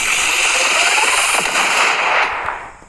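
Rapid gunfire from a video game, dense crackling bursts running nearly continuously for a few seconds before trailing off, loud and close with no talking over it.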